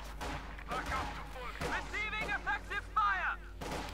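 A 120mm artillery piece fires in the Company of Heroes 2 strategy game, its booming shots and fusillade mixed with battle effects and a low rumble, heard over a steady game soundscape with faint talk in the background.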